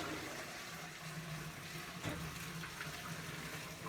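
Water pours steadily in a continuous rushing stream, filling a pot used for dyeing basket-weaving reed, with no voices present.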